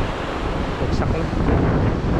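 Strong surf crashing on Paninap Beach in Real, Quezon, a steady, close, broadband roar of breaking waves mixed with wind buffeting the microphone, with no clear breaks in the sound.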